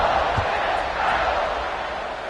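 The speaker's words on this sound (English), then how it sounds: "this crowd is buzzing after that last score" A stadium crowd in the EA College Football video game keeps up a steady, dense roar throughout, loud and unbroken with no clear peaks.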